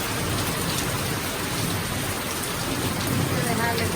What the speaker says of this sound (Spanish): Que con truenos, relámpagos, de que llueve aquí.